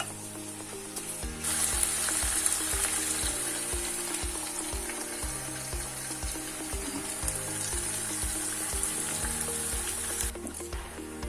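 Turnip and pea curry vegetables browning in a pan give off a steady, even sizzle and crackle that runs unbroken, with background music playing underneath.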